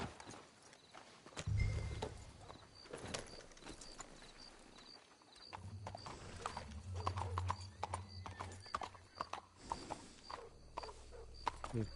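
Horse hooves clip-clopping in Red Dead Redemption 2, a steady walking rhythm of hoofbeats on the ground, faint to moderate, with a brief heavier thump and a low rumbling layer in the second half.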